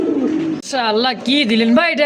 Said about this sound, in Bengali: এত সুন্দর ড্যান্সিং একটা কবুতর ভাই